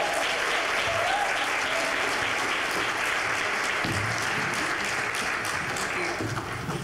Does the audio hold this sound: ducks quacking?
no